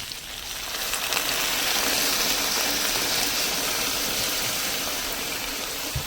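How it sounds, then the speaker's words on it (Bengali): Water poured into a pan of frying mixed vegetables for a village-style vegetarian curry gives a continuous, loud, hissing sizzle and rush that holds steady for several seconds, with no talk. "পরিমাণ মতো জল দিয়ে দেবো"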